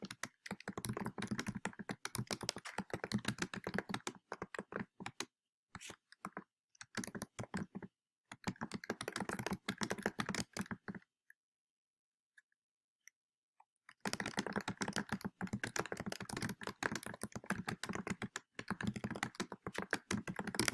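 Rapid keyboard typing clicks in bursts, close and fairly quiet, with a few seconds of silence in the middle before the typing resumes.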